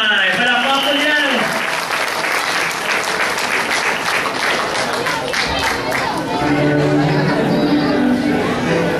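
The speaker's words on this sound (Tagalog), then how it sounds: "Palakpak po dyan." Audience applause at a Purim celebration event as a participant is welcomed, dense sustained clapping with crowd chatter running loud throughout, under a host's amplified voice and music at the start.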